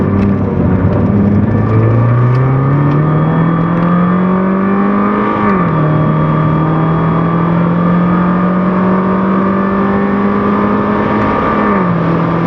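A Mini Cooper S R56 engine revs hard and climbs steadily in pitch, dropping briefly at a gear change before climbing again, loud and close.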